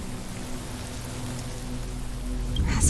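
Rain in a video game story quest cutscene: a continuous soft patter of rainfall over a low steady hum, growing slightly louder toward the end with a brief brighter splash.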